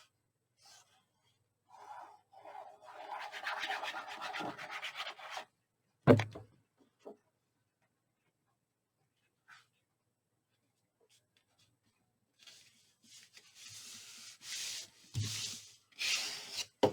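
Paper being burnished flat along a fold line on a Halloween-themed folio, heard as short scraping rubs in two bursts separated by quiet, close and fairly soft.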